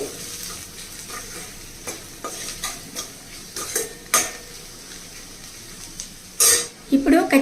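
A spoon scrapes and clinks against a pan as turmeric and salt are stirred through a cooking mixture, with soft sizzling underneath and louder metallic strikes near the end.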